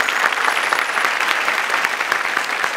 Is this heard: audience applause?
yes